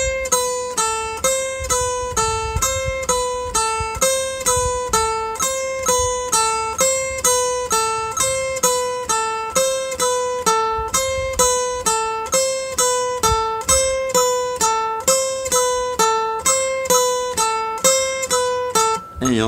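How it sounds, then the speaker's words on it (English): Guitar plucks one note on each metronome click, a steady even pulse of clean tones repeating around twice a second for twenty seconds, close and clear, with no talking. "is literally play a note for every click."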